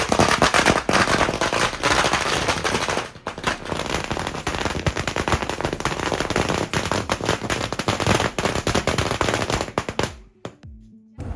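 A jumbo sutli bomb firecracker during Diwali sets off a dense, sustained barrage of loud sharp cracks and pops for about ten seconds, with a sudden blast early on and echoing outdoors before fading to a few scattered bangs.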